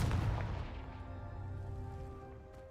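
Spell explosion in a wizard video game: a loud, booming burst that opens the clip and decays into a sustained rumbling tail with a bright ringing shimmer, no talking over it.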